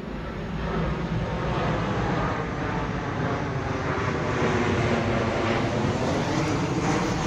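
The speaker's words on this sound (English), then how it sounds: "Of course, good timing, a plane's flying over." Steady, loud broadband roar of an airplane flying overhead outdoors near a garden and trees, continuous and unbroken for several seconds with no talk.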